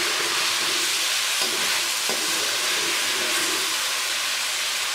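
Green chillies and other chicken biryani ingredients fry in hot oil with a dense, loud, continuous sizzling hiss, broken only by a couple of brief knocks.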